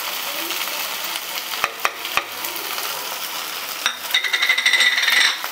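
Ground cumin, coriander and Kashmiri chilli powder stirred into masala that is frying in oil, giving a steady sizzle with a few sharp utensil clicks and a brighter, louder crackle near the end; no talking.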